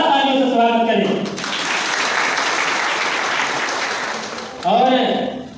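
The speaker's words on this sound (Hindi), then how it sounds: "जोरदार तालियों से स्वागत करें।" Loud audience applause at a PESA law workshop in Lohardaga district, welcoming the organisers: a dense burst of clapping between stretches of someone speaking through a PA, ending as his voice returns.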